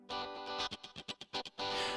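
Distorted guitar sound from an insert effect on a keyboard's accompaniment track, short choppy chord stabs between sustained buzzy passages, loud and alone.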